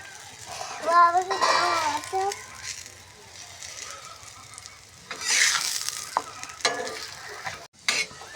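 Food frying in a pan, a close sizzle with stirring and scraping noises that swells and fades, while a voice and other voices talk over parts of it.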